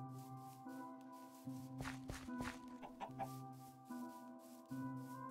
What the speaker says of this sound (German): Da hinten waren so viele Hühner